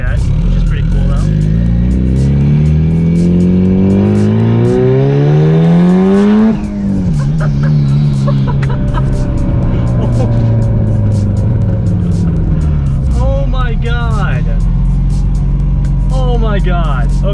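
Mitsubishi Evo 8 engine revving hard on a dyno, pitch climbing steadily through the gears for several seconds before a sudden drop, then a steady high drone with brief chirps, loud and close.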